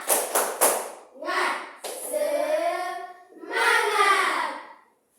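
Children in a classroom perform a tepuk semangat, three sharp rhythmic claps up front followed by a group of young voices chanting together in rising, sustained phrases, close and fairly loud.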